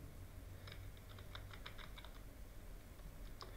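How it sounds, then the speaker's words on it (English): Computer keyboard typing in a quiet room, a run of light, quick keystrokes clustered near the start and middle, fairly faint, with a final isolated tap near the end and no voices. "Type Fortran tutorials"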